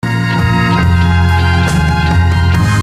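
Lush sampled music with sustained strings over a steady low bass and percussive hits, dense and loud throughout with no voices.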